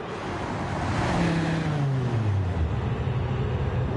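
A racing car in Gran Turismo 7 pulls into its pit box on a drying track, the engine note sliding downward as it slows, set against broad rushing noise with no talk.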